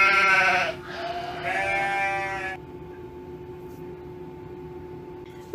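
A toy goat gives two electronic bleats in quick succession, close and fairly loud, the second longer and higher, then a quiet steady hum is left.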